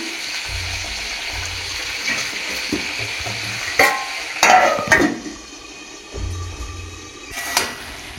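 A pot of pointed gourd and pumpkin curry with fish oil simmers and sizzles on the stove, a steady bubbling hiss broken by a few stirring scrapes and clinks of the pan.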